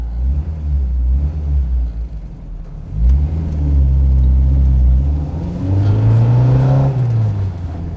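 A Volkswagen Golf Mk1 with about 50 horsepower pulls away from a standstill, its engine note rising steadily through a long, loud rev with a gear change midway, close up and alone.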